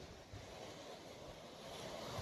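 Waves wash steadily against the rocky shore below Ratneshwar on a windy day, a continuous broadband roar of surf mixed with gusting wind noise on the microphone, with no talking.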